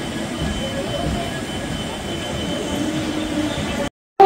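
Purulia–Howrah Superfast Express running between Santragachi Junction and Howrah, a steady loud rumble of wheels and carriages from on board, ending in an abrupt cut.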